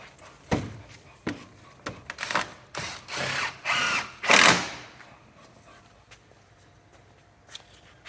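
A power drill drives screws into a slatted screen fence panel while assembling a double bin store, with several short, loud whirring bursts spaced apart, the last and longest near the middle, followed by quieter handling.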